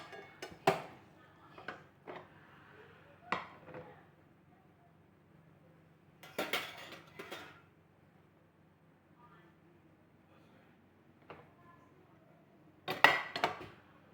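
Cooked Maggi noodles being moved to a plate with utensils: sparse, sharp clinks and scrapes of metal against pan and plate, separated by long quiet gaps, close but soft.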